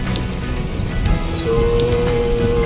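Steady rain falls on a cool rainy afternoon, a dense, continuous patter heard close by, with a faint tonal hum entering partway through.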